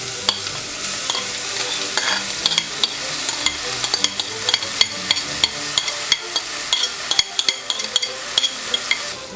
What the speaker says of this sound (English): You want to saute the garlic and the onion until it gets nice and softened.